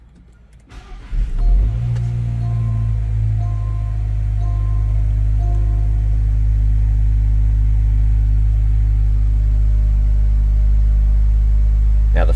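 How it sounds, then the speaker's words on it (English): A Land Rover Discovery Dynamic SE cold-starts with a short cranking whir, then settles into a loud, steady, close idle rumble that holds for the rest of the clip. "this is a cold start"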